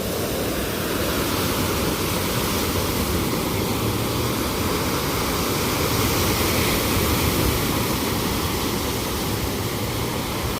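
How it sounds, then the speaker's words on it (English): Choppy lake waves breaking on a windy Presque Isle beach during a storm, a continuous loud wash of surf and wind roar with no distinct pauses or voices. "Look how those waves just kick right back up again."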